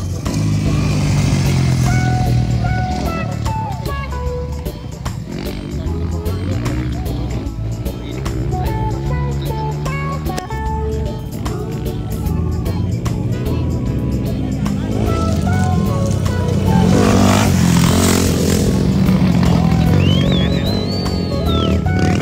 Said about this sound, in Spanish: aquí viene la primera moto en la pista